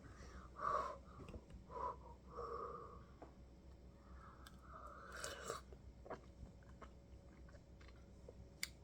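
Someone eats seaweed soup (miyeokguk) up close, with a few wet chewing and slurping bursts early on, then quieter mouth sounds and soft breathing.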